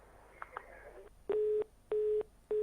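Telephone busy tone after a call is disconnected, steady repeating beeps in a regular on-off rhythm, loud and clear, following a few fainter clicks.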